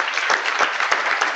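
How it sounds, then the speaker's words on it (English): Audience applause at the opening plenary session of a DMUC 2018 conference, a steady, close roar of many hands clapping with no break, lasting just over a second. "let's everybody give them a round of applause"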